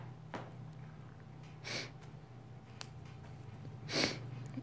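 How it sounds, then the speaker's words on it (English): Two or three short, breathy nasal sniffs spaced a couple of seconds apart, close and fairly quiet over a soft background hum. "I got the sniffles"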